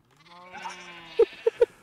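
A Minecraft sheep gives a drawn-out wavering bleat, followed by three short sharp knocks or taps in quick succession, close and clear.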